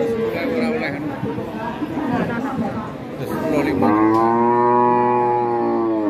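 At a cattle market in Tuban where young Babon bulls are sold, crowd chatter fills the background until a cow lets out a long, loud, close moo that holds for about two seconds.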